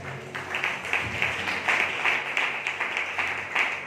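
Church congregation clapping during a Sunday service, a steady rhythmic beat of many hands together, moderately loud, with faint voices beneath.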